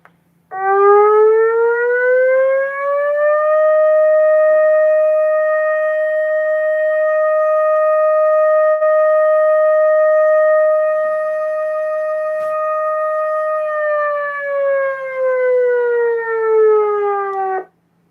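A loud custom ESC 2030 electronic civil defense siren winds up, holds a steady multi-tone wail peaking around 620 Hz for several seconds, then slides back down, with no talking.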